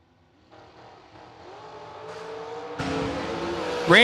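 Drag race car accelerating hard at a drag racing event, engine note climbing in stepped gear changes from faint to loud, ending in a sharp close roar.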